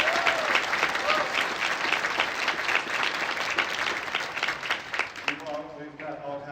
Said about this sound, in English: How about a big round of applause for everyone that decorated their instrument?